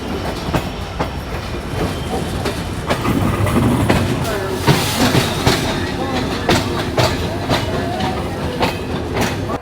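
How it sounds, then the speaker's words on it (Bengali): The Titumir Express from Rajshahi to Chilahati pulls out of Santahar Junction, wheels clattering in a rhythmic clickety-clack over rail joints, fairly close and loud, with faint voices in the background. "এপাশে রাজশাহী থেকে চিলাহাটি তিতুমির এক্সপ্রেস ট্রেনটি ছেড়ে দিল"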